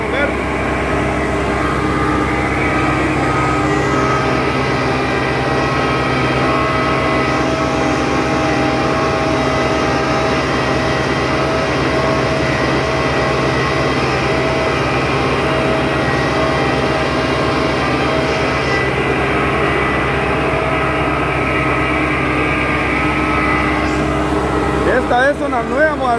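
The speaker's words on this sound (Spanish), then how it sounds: "Remolcando el tractor John Deere 5510 para respectiva preparación de suelo." A Case 100 HP tractor tows a John Deere 5510 fitted with a rotavator along a road, producing a steady, loud engine drone with constant low rumble and no breaks.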